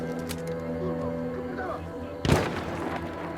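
A single sharp sniper rifle shot rings out in the video game Battlefield 1, a loud broadband crack over a steady bed of game ambience and background noise.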